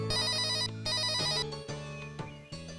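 A phone rings loudly with an electronic ringtone, its melodic tones repeating in bursts over about three seconds in a home.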